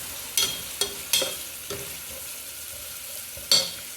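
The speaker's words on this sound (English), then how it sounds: "Let these peels or the skin pieces fry up a little bit in the oil" Soft sizzling of bitter gourd peels frying in oil, with a few sharp crackles and stirring scrapes at irregular intervals; fairly quiet with no talking.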